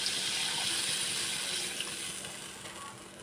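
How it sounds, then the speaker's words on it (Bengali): Water poured into a potato and fish curry in a pan, a steady rushing pour that gradually fades, with no clear talking. "পরিমাণ মতন জল দিয়ে দিচ্ছি"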